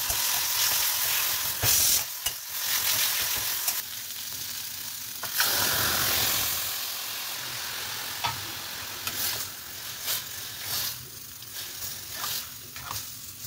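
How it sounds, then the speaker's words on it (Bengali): Ghugni goes into a very hot wok and sizzles loudly and continuously, with stirring scrapes and clatter and a low background hum. "কড়া গরম হয়ে গন্ধ বেরোচ্ছে, মানে গরমের গন্ধ আর কি। তো চটপট আগে ঘুগনিটাকে চাপিয়ে দিই।"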